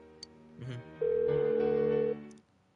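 A phone rings unanswered in Persona 4 Golden, a single sustained electronic tone lasting about a second amid soft game music and tones, fairly loud and close.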